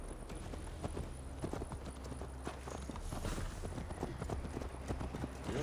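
Horse hooves clip-clop at a riding pace in a Viking-era action game, a steady, fairly close rhythm of hoofbeats on hard ground with faint background ambience and no talking.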